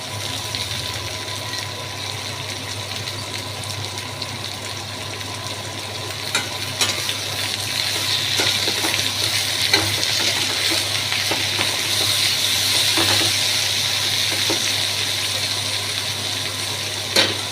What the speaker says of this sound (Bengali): সবজিগুলো একটু ভাজতে হবে হ্যাঁ একটু ভেজে নিয়ে তারপরে শাকটা দিতে হবে